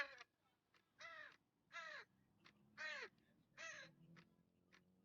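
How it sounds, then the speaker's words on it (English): A crow caws five or six times in a slow, regular series of harsh, rasping calls, each about a quarter-second long and separated by short gaps, heard clearly and alone against a quiet background. "He cawed."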